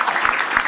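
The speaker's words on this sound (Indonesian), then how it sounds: "tepuk tangan untuk Gus Dur" Studio audience clapping at a talk show, a steady, dense wash of applause filling the whole short moment with no pause.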